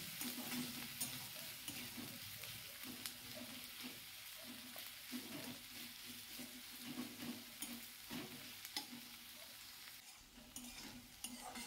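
Onions frying over high heat for a mutton curry, a steady loud sizzle with repeated scraping stir strokes throughout, no talk.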